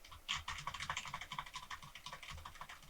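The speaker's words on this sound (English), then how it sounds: "Do the typing noise." Rapid typing on a computer keyboard with the space bar pressed over and over, a steady run of close, clicky keystrokes with no talking.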